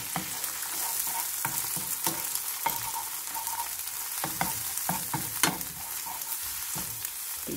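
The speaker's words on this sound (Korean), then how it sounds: "소태에 기름을 조금 두르고, 계란을 볶습니다" Egg stir-fried in a little oil in a pan while making bitter melon gives a close, steady sizzle, broken by repeated sharp scrapes and taps of a spatula.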